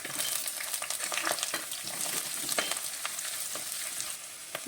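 Ginger and garlic fry in hot oil, giving a steady, close, crackling sizzle dotted with quick spits and light stirring clicks, with no talking over it.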